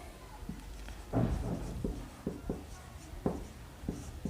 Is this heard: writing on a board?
yes